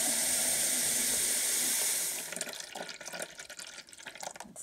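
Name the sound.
water being added to a dye pot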